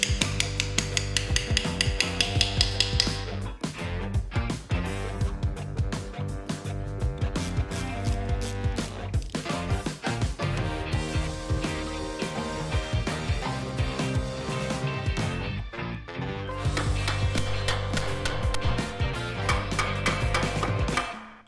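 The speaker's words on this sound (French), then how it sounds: "Toujours tapoter légèrement et bien guider pour relâcher." Light hammer taps on a classic Mini's aluminium clutch housing during disassembly, a long series of sharp metallic knocks in irregular bursts with brief pauses, close and clear with no talk.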